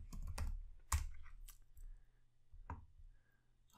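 Typing on a computer keyboard while working in Excel, a few quiet, sparse clicks of keys pressed in short bursts with pauses between, close and faint, with no talking.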